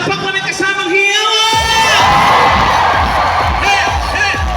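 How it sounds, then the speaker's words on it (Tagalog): Loud crowd cheering, whooping and shouting with clapping at a lively comedy show, a burst of voices swelling after the first second and staying dense and sustained throughout. "Gusto ko makarinig na palakpak na may kasamang hiyaw!"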